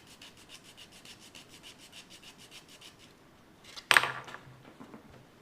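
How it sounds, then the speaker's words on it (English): Sandpaper rubbing a curved slot into a wooden pylon for a glider build, a quiet rhythmic back-and-forth scratching of short strokes, followed by a sudden sharper scrape or knock near the end. "that sandpaper is not doing so great"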